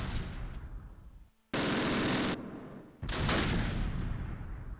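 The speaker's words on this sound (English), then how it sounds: "mortars start falling on us" Mortar rounds land on troops in the WWII tactical game Close Combat, set near Mortain, in two loud, broad blasts that each cut in abruptly and fade off in a long rumbling tail.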